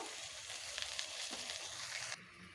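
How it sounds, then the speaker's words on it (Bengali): Pointed gourd pieces, seasoned with salt and turmeric, fry in hot oil for a rohu fish curry, giving a steady close sizzle that drops off sharply near the end. "এবারে আমি পটলগুলোকে ভেজে নেব"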